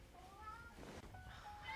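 A pet cat named Leo meowing in Genshin Impact, short rising tonal calls that repeat faintly over steady game ambience and music, with no talk.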